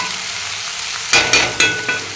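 Bitter gourd slices frying in a pan, a steady sizzle that jumps louder at about one second, then several scraping stirs in a rhythm under the sizzle.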